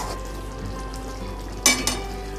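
Crushed kasuri methi is stirred into a soya korma curry, a steady low sizzle with two sharp clinks of a spoon against the pan and no talk.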